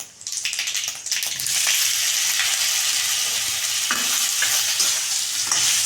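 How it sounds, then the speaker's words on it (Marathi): Mustard seeds and cumin sizzling in hot oil in a pan, with a bright continuous sizzle, a few spoon scrapes and pops, close by. "चांगल्या ह्या भाजून घ्यायच्या तेलामध्ये जिरे मोहरी तेलामध्ये छान खमंग असा वास येतो"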